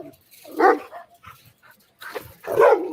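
Dogs playing and barking: two loud, close barks with short yips and whimpering noises in between, set against a quiet background.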